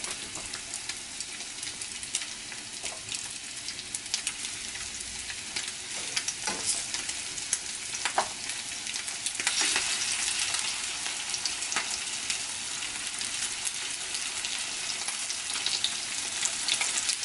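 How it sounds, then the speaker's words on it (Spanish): Pork ribs browning in hot vegetable oil in a pan, a steady loud sizzle and crackle throughout with occasional pops and stirring scrapes, growing slightly louder partway through, with no talking. "vamos a dorar las costillitas"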